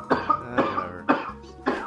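Four short, harsh coughs in quick succession, close to the microphone, with brief gaps between them.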